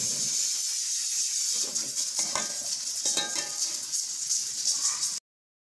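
Steady hiss and simmer of meat boiling in a pot on a stove, steam hissing continuously at close range with faint clinks, then cutting off abruptly near the end.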